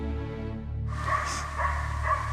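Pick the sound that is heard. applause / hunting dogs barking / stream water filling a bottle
hunting dogs barking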